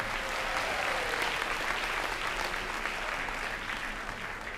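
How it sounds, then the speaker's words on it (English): An audience at an employee service day event applauds the Employee Advisory Council, a steady wash of many hands clapping at moderate distance that fades slightly toward the end. "So round of applause for your Employee Advisory Council."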